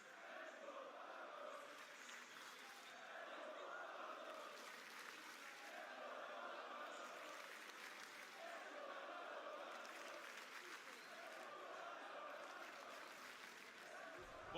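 Large live crowd cheering loudly and steadily at a Six Invitational esports final in Paris, a dense sustained roar with swelling waves of noise throughout.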